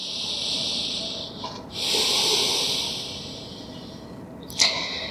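Slow, audible breaths are drawn in and pushed out in a yoga child's pose: long airy inhales and exhales close up, ending with a short sharp snort-like exhale.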